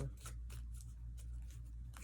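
Tarot cards are shuffled in quick riffles, a run of crisp papery flicks and slaps coming close and alone in short bursts.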